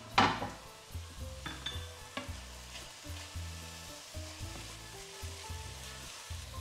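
Spinach and dill sizzle and wilt in a pan, a soft steady fry under repeated scraping and stirring strokes of a utensil against the pan, with a sharper clink at the start.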